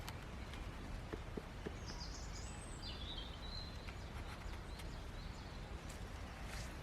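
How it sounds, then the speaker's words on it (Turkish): Birds chirp and sing intermittently outdoors in a quiet village, faint calls over a soft, steady background hiss with occasional light footstep-like taps. "kuş sesleri eşliğinde."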